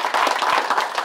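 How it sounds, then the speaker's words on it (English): Buffalo Bills players in a locker room after a gritty win give a brief, lively burst of clapping, close and loud with rapid overlapping claps. "Give yourself a round of applause."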